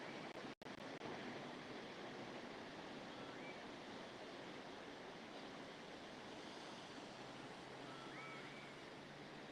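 Sea waves wash ashore along the coast near Merewether, a steady broadband surf roar heard from a distance, even and continuous throughout, with no speech.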